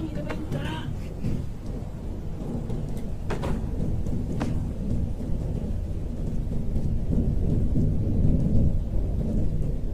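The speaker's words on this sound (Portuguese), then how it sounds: "Tá chovendo" Steady rain with low rumbling thunder rolling throughout, a continuous dense wash of sound with a few brief sharper sounds near the start, heard in a horror video game.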